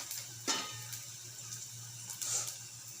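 Onion and curry leaves fry in a pan with a soft, steady sizzle. A couple of brief stirring scrapes rise above it, with no talking.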